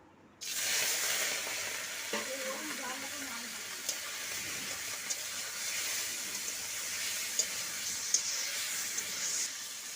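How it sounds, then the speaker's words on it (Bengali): Salted fish fries in a pan with a steady, close sizzle and hiss that starts abruptly and continues evenly for several seconds, with a faint voice briefly underneath. "এবার আমরা মাছটুকু ভেজে নেব"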